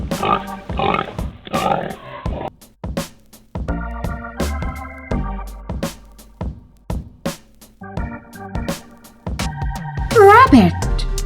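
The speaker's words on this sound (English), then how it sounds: "Pig." A farm pig oinks and grunts in short repeated bursts, loud and close, set against cheerful background music with a voice briefly present.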